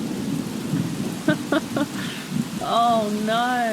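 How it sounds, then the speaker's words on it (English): Heavy rain in The Sims 3, a steady close hiss of downpour under a man's brief speech and a few short game tones and chimes. "That is some heavy rain"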